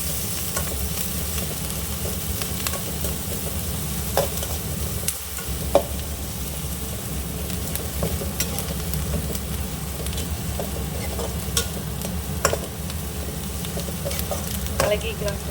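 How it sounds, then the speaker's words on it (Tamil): Onions, dried chillies, curry leaves and asafoetida sizzle steadily in a pan for curd rice tempering while being stirred, a constant close frying hiss with occasional scraping, and a voice speaking faintly at times. "எல்லாத்தையும் கலக்கிக்கலாம்."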